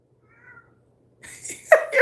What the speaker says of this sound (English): He's by my door meowing.